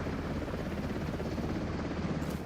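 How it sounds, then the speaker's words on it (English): Helicopter rotor and engine in a video game match, a steady continuous churning drone holding at an even level throughout, with no voices over it. "He jumps back on top of the helicopter."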